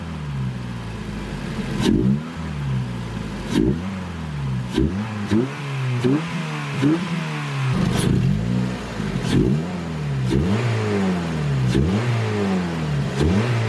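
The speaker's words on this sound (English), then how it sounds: "I'll also get you some revving clips as well. That way you can hear how this intake sounds." A 2004-2009 Mazda 3 engine with a carbon fiber intake revs repeatedly, pitch climbing and falling in short bursts about once a second, loud and close with no talking.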